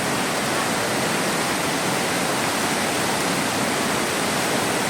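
A waterfall pours steadily at a campsite in Phatthalung, Thailand, its loud, dense rush of water filling the whole stretch without a break and with no voices.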